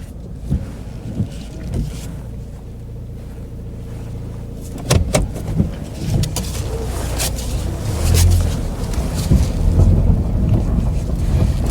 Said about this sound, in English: So we got the vehicle to run.